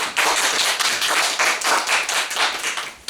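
An audience clapping for speaker Steven at a talk, a small group's sharp, distinct claps in an uneven rhythm, close and fairly loud, tapering off at the end.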